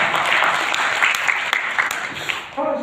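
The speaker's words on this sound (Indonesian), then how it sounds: "Tepuk tangan buat itu" Audience clapping in a Bekasi gathering, a dense sustained burst of applause filling the room, fading near the end as a voice starts.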